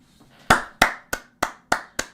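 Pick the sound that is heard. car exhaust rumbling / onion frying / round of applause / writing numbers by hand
round of applause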